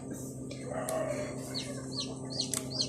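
Faint high chirps and peeps from baby chicks inside an incubator, several in quick succession, over the incubator's steady low mechanical hum.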